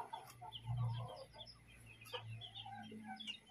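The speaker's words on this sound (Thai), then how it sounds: "นี่คือไก่ชิวกี้อเมริกา" A chicken clucks softly at a middle distance with scattered short calls, set against a low steady hum and faint rustling outdoors.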